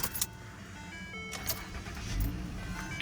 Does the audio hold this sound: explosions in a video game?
no